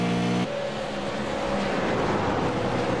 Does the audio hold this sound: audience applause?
no